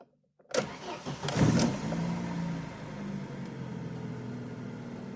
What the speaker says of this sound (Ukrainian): Давайте попробуємо запустити авто, подивимося взагалі, чи щось змінилося.